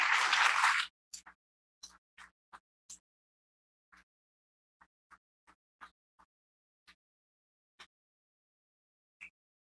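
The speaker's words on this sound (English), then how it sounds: "Join me in giving them all a great round of applause right now." A short burst of applause for veterans at a Veterans Day recognition event, cutting off within a second and trailing into scattered, isolated single claps.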